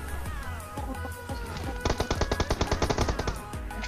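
Gunfire in a battle royale video game with a Groza rifle, a few scattered shots followed by a rapid, loud automatic burst of evenly spaced cracks, close and clear with no talking.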